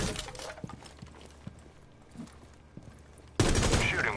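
Gunfire rips through a barricade in the Rainbow Six video game: scattered sharp shots crack over a low rumble, then a dense, loud burst erupts near the end.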